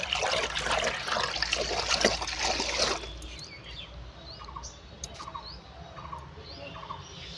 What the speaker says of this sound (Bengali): আর আমি কাপড় ভিজাচ্ছি, কাপড় ভিজিয়ে এই বাসন কটা মাজবো।